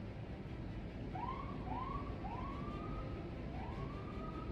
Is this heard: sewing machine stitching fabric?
no